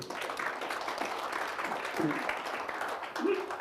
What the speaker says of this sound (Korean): 박수 한번 치셔야 돼 이거.